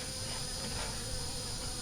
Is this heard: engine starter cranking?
no